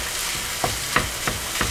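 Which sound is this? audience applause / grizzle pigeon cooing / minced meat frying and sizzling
minced meat frying and sizzling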